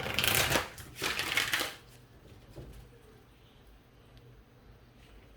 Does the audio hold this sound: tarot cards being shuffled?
yes